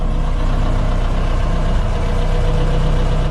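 A WWII-era military jeep engine idles steadily and loudly, a continuous low rumble with no breaks and no talking.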